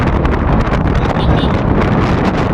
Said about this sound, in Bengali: এখানে প্রচুর হাওয়া ঠান্ডা পাওয়া যায়।